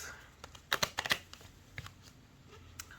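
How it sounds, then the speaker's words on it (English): Tarot cards are shuffled by hand, giving a quiet run of soft riffling clicks and papery flicks close by, with no talking. "So I'm gonna shuffle, and I'm thinking about this."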